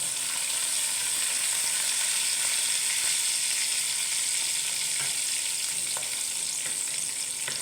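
Curry leaves and chillies sizzle in hot oil in a pan while sanja, a semolina breakfast dish, is being made: a steady, close, loud hiss of frying with faint crackles, heard alone without talk.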